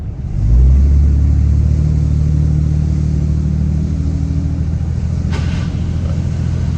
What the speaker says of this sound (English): There it is right there. Grinding noise.